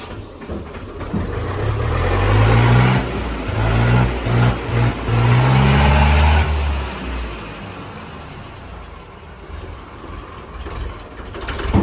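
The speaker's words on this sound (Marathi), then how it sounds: "तर ट्रॅक्टर काढायचा चाललाय" A farm tractor's engine starts and revs hard with chugging bursts, then steadies and pulls away, its rumble fading into the distance over quiet outdoor ambience.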